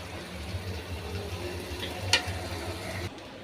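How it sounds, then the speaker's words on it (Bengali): Meat frying with spices in a pan during koshano-style cooking, a steady close sizzle with soft stirring scrapes and one sharp clink near the end. "এটা কষতে থাক।"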